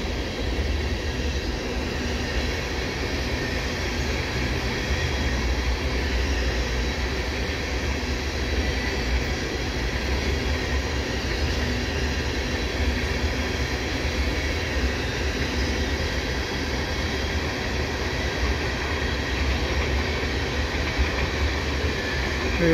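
A CP freight train hauled by two ES44 locomotives, made up of tank cars and hoppers, passes under the Dorval highway ramps, giving a loud, steady rumble and clatter of wheels that holds constant throughout.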